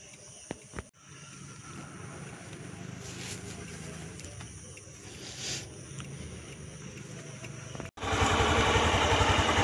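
A motorcycle engine idling at the start of a bike trip from Kolkata to Mayapur, a steady mid-pitched rumble after a brief knock, rising to a louder, rougher engine roar near the end.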